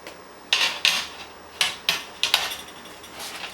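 A metal banana bread loaf pan is flipped upside down and knocked against a surface, making about six sharp, close, irregularly spaced metallic bangs with short ringing tails.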